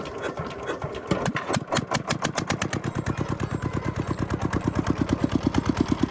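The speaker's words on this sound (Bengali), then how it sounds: "এখনই মেশিন স্টেট করা হবে দেখতে পাচ্ছেন কাকা মেশিন স্টেট করা শুরু করছে" A sugarcane crushing machine's engine at a jaggery works cranks and starts, then settles into a loud, rapid, rhythmic chugging that grows steadier and more pronounced over several seconds, close by.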